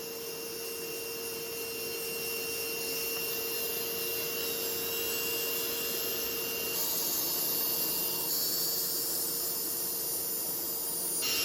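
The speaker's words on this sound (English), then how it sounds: "For these carpets, I'm just vacuuming off the dust" A vacuum cleaner runs steadily while dust is sucked off the carpets of an MGB car interior, a loud continuous whine and hiss with a slight shift in pitch as the nozzle moves, no talking.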